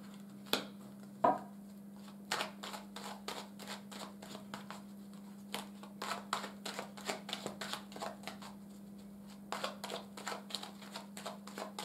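Tarot cards shuffled and dealt out for a reading: a quick run of crisp riffling flicks and slaps, some bursts dense and rapid, others spaced, close and fairly quiet over a steady low hum.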